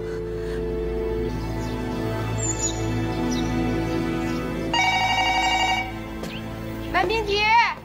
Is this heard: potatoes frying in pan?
no